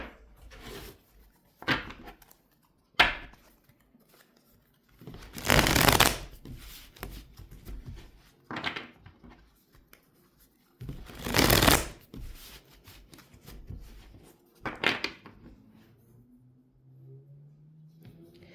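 Tarot cards shuffled by hand in several separate bursts, each a loud, close riffle of a second or so, with quieter handling, tapping and knocking of the deck in between and no talk.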